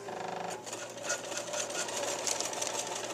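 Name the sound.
Bernina sewing machine sewing zigzag stitch on quilt binding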